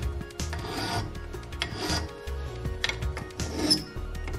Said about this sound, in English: So using a file, just file and round off the top.